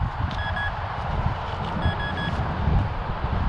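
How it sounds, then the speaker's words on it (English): Metal detector beeping during a windy, rainy storm in Oakland: two bursts of high electronic tones sound over a constant heavy rumble of wind buffeting the microphone. "I'd stop digging if it stopped beeping. It won't. It won't stop beeping."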